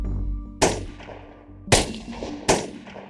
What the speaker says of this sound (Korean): 난데없는 총성이 울려 퍼지죠